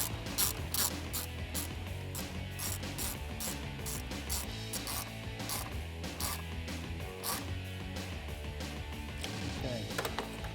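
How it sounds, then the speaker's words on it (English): A hose clamp is tightened on a cold air intake being installed on a 2009-2018 RAM 1500 with the 5.7L engine. A tool ratchets steadily and rapidly at close range, a dense clicking mechanical rhythm that runs throughout. "I'm going to hold the clamp, tighten it up."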